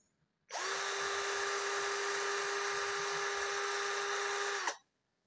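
A Nanwei cordless drill in drilling mode runs at speed setting two, a steady high-pitched electric whine that starts abruptly, holds constant for about four seconds, and cuts off cleanly, loud and close with no talking.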